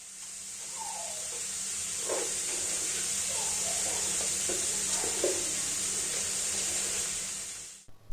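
Chopped tomatoes and turmeric hit a hot pan for a Bengali eggplant and mola fish chachori, giving a steady, loud hiss and sizzle that holds for about eight seconds, with a few soft clinks and scrapes over it.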